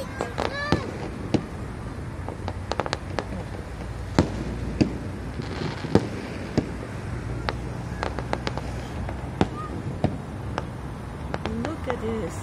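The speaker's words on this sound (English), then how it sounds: "Nice firework." Fireworks bursting at a Chinese New Year celebration on the fifteenth day, with repeated sharp pops and crackles scattered across the scene over a steady crowd murmur, people talking nearby.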